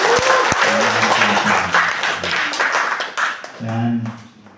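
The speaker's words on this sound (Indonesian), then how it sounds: "Kali lagi tepuk tangan yang mulia" An audience at a church lay-minister retreat in Maguwo claps steadily for about four seconds, a dense close wash of hands that swells and then trails off, while a voice speaks over it near the end.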